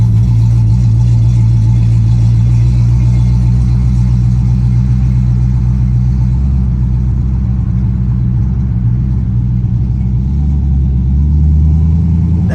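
A Jeep Renegade fitted with a 5.7-liter HEMI V8 and drivetrain from a Dodge Charger runs close and loud. Its deep, steady rumble holds throughout and rises slightly near the end, with no voices.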